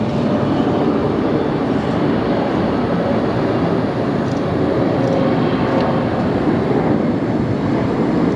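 Singapore Airlines airliner in Star Alliance livery at LAX, a loud, steady broadband jet roar that stays constant throughout without talk.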